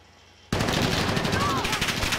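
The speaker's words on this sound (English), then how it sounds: "We'll start shooting each other." Loud, sustained automatic gunfire from a video game shootout erupts suddenly after a moment of quiet and keeps hammering close and dense to the end.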